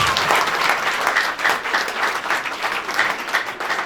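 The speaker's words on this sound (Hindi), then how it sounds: "तालियां तो कम से कम भाई।" Steady audience applause from a crowd at a live stage programme, dense and continuous clapping throughout with no breaks.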